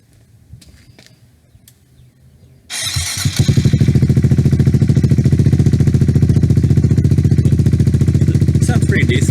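A Kawasaki Z125 Pro motorcycle with an aftermarket eBay exhaust starts after a quiet stretch, then settles into a loud, steady, low, throaty idle with a deep pulsing rumble close by.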